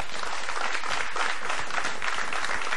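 A studio audience at a live Angolan TV show gives sustained, dense applause for the kuduro star Nagrelha. The clapping stays loud and steady throughout, with faint crowd noise beneath it.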